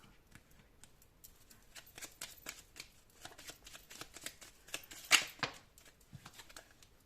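A deck of tarot cards shuffled close by, soft quick riffling bursts and flutters with a sharper flurry near the end, quiet and without talk.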